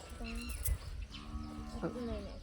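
Cattle being fed moo in a farmyard, with a few drawn-out, close calls rising over a steady background of people talking.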